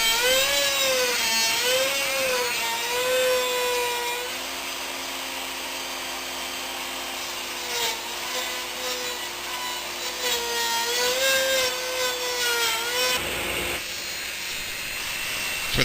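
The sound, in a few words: slot mortise machine used as router table cutting rabbet in wood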